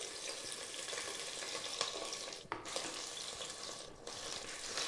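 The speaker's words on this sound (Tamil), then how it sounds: "சின்ன வெங்காயம் சேர்த்து அதை கொஞ்சம் நல்லா வதக்கிக்கிடுவோம்." Shallots and fried fenugreek sauté in hot oil in a pan, giving a steady, close sizzle and crackle with brief dips and stirring scrapes.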